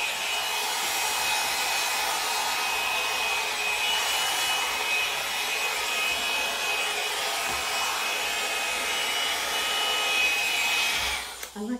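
A Conair 2-in-1 hot air curling blow dryer runs continuously with a steady, loud airy whoosh, faintly shifting as it moves, then cuts off right at the end.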